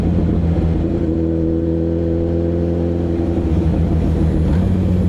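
A 1000cc liter-bike motorcycle engine at night holds a steady, smooth drone with only a slight shift in pitch near the end, close and continuous, with no talking.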